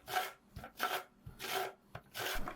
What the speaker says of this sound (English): Now we will grate each lemon.